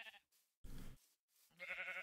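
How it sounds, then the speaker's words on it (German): Sheep bleating on a farm, two or three separate wavering bleats with short pauses between them, fairly close but quiet overall. "Schafe haben wir hier, Schweine haben wir hier."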